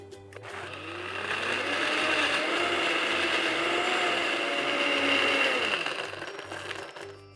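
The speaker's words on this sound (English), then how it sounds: "Cover that, and we're gonna go ahead and blend this." Blender whirring through ice, yogurt and purple rice drink, a steady loud motor drone that ramps up, holds for several seconds with a churning grind, then winds down.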